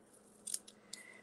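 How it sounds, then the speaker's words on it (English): Scissors trimming patterned paper pieces for a 3D paper snowflake, giving a few quiet, quick snips close by with no talking. "So I'm just going to trim them so they're the same shape as the ends of the snowflake."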